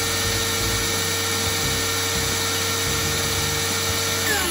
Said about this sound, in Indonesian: Jadi ini salah satu circular saw yang paling cepat yang pernah saya tes ya guys